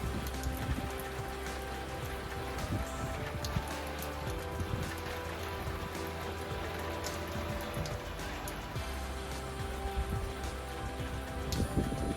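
Rain falls steadily outdoors at a spot where a classic Morris Minor is being restored, a constant patter of drops on surfaces with occasional louder splashes and no talking.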